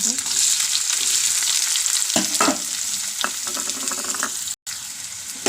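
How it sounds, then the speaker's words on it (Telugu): Onions and fenugreek seeds fry in hot oil as a steady, close sizzle. A utensil gives occasional stirring scrapes, and the sound cuts out for a moment near the end. "ఆయిల్ కాగిందండి కొద్దిగా మెంతులు వేస్తున్నాను ఉల్లిపాయలు వేస్తున్నాను"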